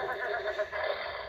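A horse neighs from the electronic board game Qui l'a vu?, a single bright, slightly buzzy whinny lasting just over a second, close and fairly loud.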